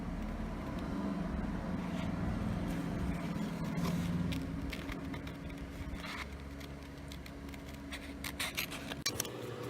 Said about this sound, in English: Kind of move your paper instead of your scissors when you're cutting.